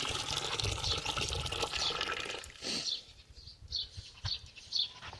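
Water gushing from a newly installed hand pump, a loud continuous splashing flow for about three seconds that then breaks into a few shorter spurts and splashes, with no talking.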